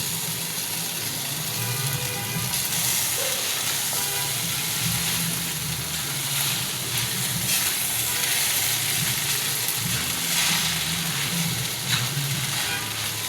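Chow mein noodles and pasta sizzle and fry in hot oil with spices, a steady, dense hiss of crackling oil that carries on without pause at close range.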